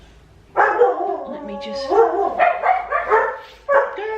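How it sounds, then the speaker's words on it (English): Household dogs bark and yip excitedly when someone arrives at the house, a run of loud, close barks in quick bursts mixed with a person talking. "my daughter's just arrived, so the dogs are going nuts"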